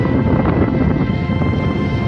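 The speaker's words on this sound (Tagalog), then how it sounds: "So ngayon ay medyo malakas pa yung hangin pero yung ulan wala na." Strong wind from a typhoon in a coastal village buffets the microphone with a loud, continuous low rumble and gusty roar, no voices heard.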